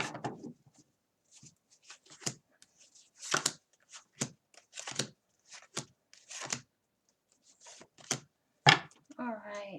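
Tarot cards shuffled in repeated short bursts, crisp riffling flaps close by with brief pauses between, ending in a quick flutter.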